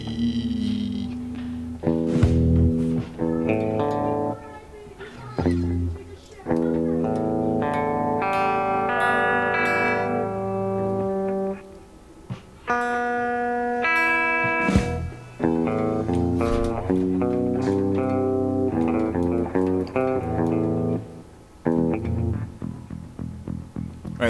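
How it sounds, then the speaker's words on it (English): An electric guitar in Rocksmith gameplay is plucked and tuned up to E, with ringing distorted notes and harmonics sounding one after another across the stretch, each sustaining before the next, with no talking. "Let's tune this back up to E."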